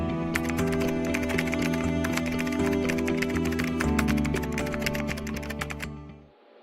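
Fingers type code quickly on a computer keyboard in a dense, steady patter of close key clicks over a tonal background hum, then the sound cuts off near the end.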